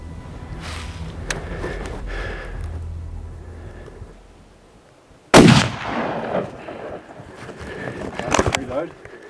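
During a backcountry tahr hunt in New Zealand, a single sharp, loud rifle shot cracks outdoors and rolls away in a fading echo, with people talking quietly before and after it.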